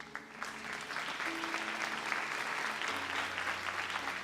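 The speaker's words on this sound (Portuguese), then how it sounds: "Vamos nos assentar aplaudindo a palavra de Deus." A church congregation applauding together, a dense steady patter of many hands clapping throughout, with a sustained tone running underneath.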